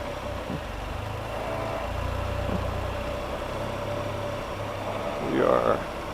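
Can-Am Spyder three-wheel motorcycle engine pulling away in first gear at the start of a ride toward Moab, Utah, a steady low hum running throughout with a brief louder rise near the end.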